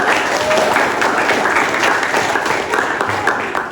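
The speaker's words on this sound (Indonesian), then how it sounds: "Tepuk tangan dulu." Students in a primary school classroom applaud a classmate, a steady dense wash of clapping sustained for the full few seconds, loud and close, with a few voices mixed faintly underneath.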